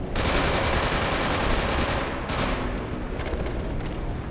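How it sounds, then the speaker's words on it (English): Gunfire in the console shooter Killzone 2, a dense, continuous volley of shots that stays loud for the whole stretch and eases slightly toward the end. "Where is he shooting from?"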